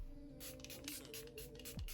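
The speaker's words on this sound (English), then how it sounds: "you want to like spray and then wait like a little bit" Makeup setting spray misted several times over a tonal hum, a run of short airy bursts close to the mic with brief pauses between them.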